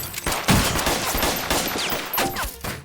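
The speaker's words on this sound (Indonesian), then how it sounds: "Terjadi baku tembak antara polisi dengan tersangka." Gunfire exchange between police and a suspect in a TV drama scene: several sharp, loud shots in quick irregular succession, with ricochet-like whizzes between them.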